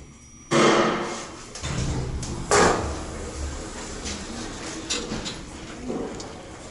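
Kone EcoDisc elevator brake system at a campus theater building, a sharp loud clunk followed by a rumbling run and further knocks and thuds, no talking.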